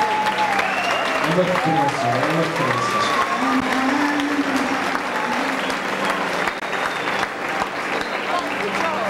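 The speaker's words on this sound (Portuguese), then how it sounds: "Um grande salve de palmas" An audience at a 1998 Portuguese hair fashion show applauds with sustained clapping while a voice speaks in Portuguese over it, the applause gradually thinning toward the end.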